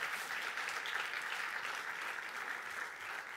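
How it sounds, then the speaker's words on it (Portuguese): An audience at a DEI summit claps as people arrive, giving a steady, dense patter of many hands that stays fairly quiet and even throughout, with no one talking. "Eu peço uma salva de palmas enquanto as pessoas estão a chegar."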